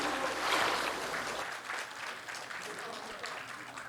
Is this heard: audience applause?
yes